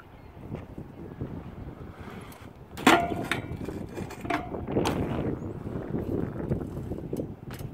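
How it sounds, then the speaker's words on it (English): Gusty wind rumbling across the microphone, rising and falling in uneven bursts with a few sharp flapping rustles, moderately loud. "It is so damn windy and cold."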